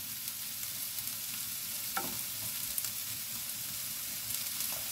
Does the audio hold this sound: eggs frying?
yes